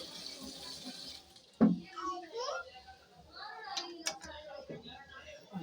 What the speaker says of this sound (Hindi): तो इसमें हम थोड़ा पानी डाल देते हैं।